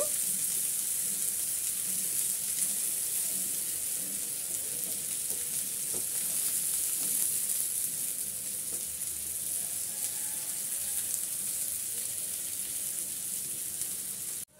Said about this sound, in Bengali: আমি পেঁয়াজটা হালকা একটু ভেজে নেব